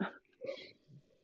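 A single quick sneeze comes close, followed by a brief breath and a faint low murmur, in a quiet room.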